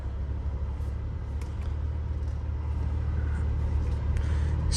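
A 2014 Maserati Ghibli with a 3.0L V6 being driven, heard from inside as a steady low engine and road rumble that swells slightly toward the end, with no talking.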